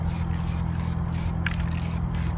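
Short hissing bursts from an aerosol can spraying red oxide primer undercoat on a narrowboat, several pulses in a row under a steady low hum, close up.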